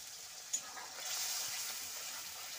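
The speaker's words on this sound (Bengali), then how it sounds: "তো প্লেটটা ধুয়ে একটু জলটা দিয়ে দিচ্ছি মশলা" Water poured into a hot pan of ground spice mixture: a brief splash followed by a steady, soft sizzling hiss, close and without talk.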